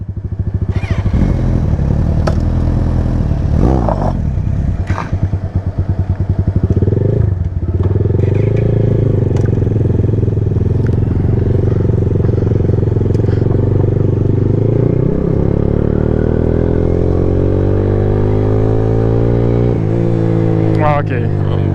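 A Dayun Flasher 200cc motorcycle engine rides close and loud, rising and falling through gear changes with a buzzing drone, while a rider talks over it.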